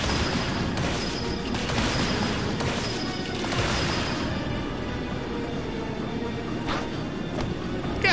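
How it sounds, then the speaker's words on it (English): Cannon fire in a fantasy RPG battle at a fortress, heavy booming blasts and crashes layered densely over continuous loud combat noise for the whole stretch. "Shoot her with the cannon."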